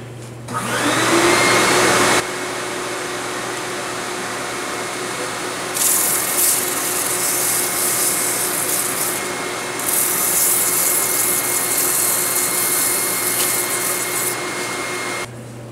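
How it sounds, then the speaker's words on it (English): A wooden goblet spins on a lathe under sandpaper, giving a steady loud motor hum with a rough, hissing rub that surges at intervals and runs continuously. "now I'm going to do just a little bit of sanding in this area and this will be complete"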